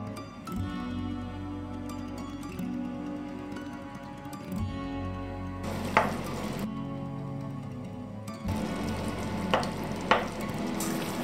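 Peeled organic Italian tomatoes land in a hot pan for a Sicilian pasta alla Norma sauce, and a steady, fairly loud sizzle of frying runs throughout, with a couple of brief bursts of stirring or splattering.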